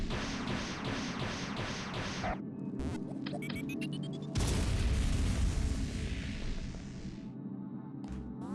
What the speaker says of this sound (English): I'll just drop the power bomb